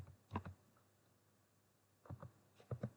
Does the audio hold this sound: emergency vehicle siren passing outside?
no